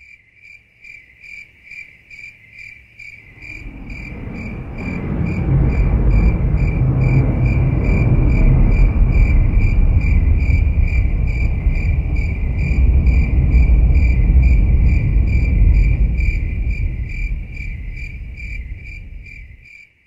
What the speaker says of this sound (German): das hohe Flirren von Grillen von einem tiefen Donnergroll